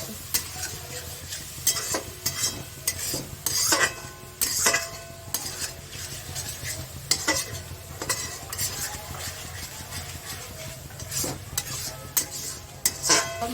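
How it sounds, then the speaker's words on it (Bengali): Marinated chicken sizzles loudly in a hot pan of fried spices for chicken curry, with repeated scraping and clinks of a metal spoon stirring throughout and no talking. "এইবার আমি ম্যারিনেট করা চিকেনটা এর মধ্যে দিয়ে দিলাম"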